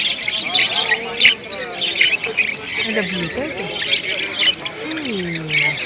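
Caged birds at the Dakshineswar pet market in Kolkata squawk and chirp continuously, shrill overlapping calls filling the scene while people talk and move around nearby.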